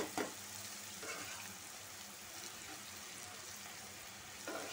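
Sliced ridge gourd frying in a pan on a home stove, a steady soft sizzle with occasional scrapes of stirring, close and fairly quiet, with no talking.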